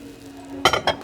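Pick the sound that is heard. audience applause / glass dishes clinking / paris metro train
glass dishes clinking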